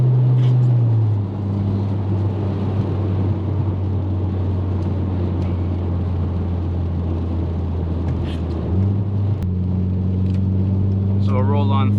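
A big-turbo 8V engine in an MK4 VW Jetta wagon pulls at half throttle in third gear, heard from inside the cabin as a steady loud drone whose pitch rises and shifts. A voice talks over it.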